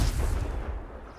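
A Confringo blast spell cast in Hogwarts Legacy, a loud low explosive boom right at the start that rumbles and dies away over about a second.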